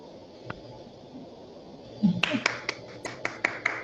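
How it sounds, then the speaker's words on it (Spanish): Scattered claps from a few participants over open microphones in an online meeting, sparse and uneven sharp hits starting faintly and then clustering in the second half, with a low murmur underneath. "abrimos los micrófonos para darle un fuerte aplauso a Ana Rosa."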